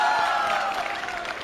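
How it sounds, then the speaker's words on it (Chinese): Audience applause at a televised romantic confession show, a dense continuous wash of clapping that holds steady and gently fades, with no voices over it. "来，掌声欢迎。"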